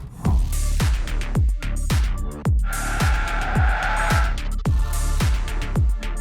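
Tesla car drifting on track during a tire comparison test of Michelin, Continental, Goodyear and Bridgestone tires, with loud repeated tire slides and a steady engine drone, plus a sustained tonal squeal in the middle.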